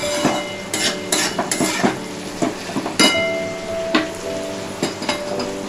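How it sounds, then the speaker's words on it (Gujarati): A spoon stirs lilva beans into kadhi in a pot, giving repeated sharp metallic clinks and scrapes in an irregular rhythm, close and fairly loud, with no voices. "હવે આપણે એને કઢીમાં દાણા ઉમેરી લઈએ।"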